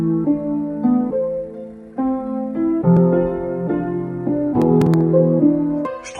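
A dark, emotional trap melody slowed with a half-tempo effect, longer sustained notes ringing in a heavier, stretched rhythm, loud and close with a few sharp percussive ticks near the end and no voices.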